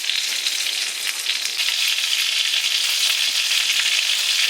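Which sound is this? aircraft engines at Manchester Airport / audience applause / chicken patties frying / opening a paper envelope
chicken patties frying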